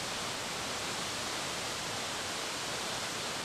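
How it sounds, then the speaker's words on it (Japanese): Inukai waterfall in Kirishima, 36 meters high and 22 meters wide, roars as a dense, steady broadband rush of falling water, loud and unbroken, with no voices. "ようやく登りきりまして、目の前に現れたのがこちら犬飼の滝。"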